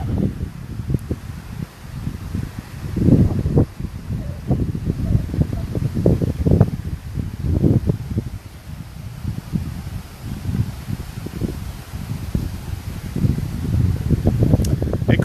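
Wind gusting across an outdoor resort construction area, a steady low rumble of buffeting and rustle that rises and falls throughout, with faint distant background sounds.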